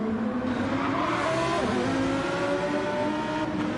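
A Lamborghini race car at the Nürburgring 24-hour pre-qualifying passes with a loud, continuous engine roar and shifting pitch as it goes by, steady throughout with no voices.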